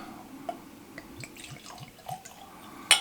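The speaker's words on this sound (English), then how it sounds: "Pour ourselves a little dram." Whisky is poured as a small dram into a glass, a quiet trickle of liquid with soft gurgles and a few drips, ending in a sharp clink of glass.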